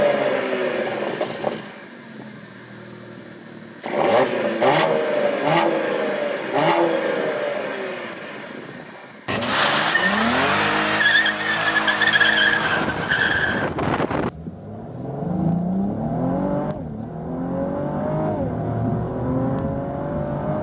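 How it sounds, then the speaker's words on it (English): A 2016 Cadillac ATS-V revs hard and drives, with loud, close engine bursts rising and falling in pitch, tire squeal and skidding, separated by brief quieter gaps. "that was the sound of the ATS-V Cadillac"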